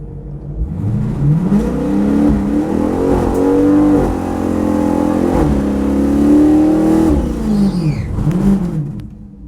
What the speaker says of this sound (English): Did a really good smoky burnout there.